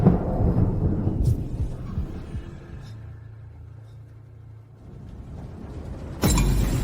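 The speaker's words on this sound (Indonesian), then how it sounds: "Kok tiba-tiba ada petir?" Thunder rumbles loud and low through a sudden power cut, a long broadband roll with a steady hum beneath, then a sharp crashing burst near the end.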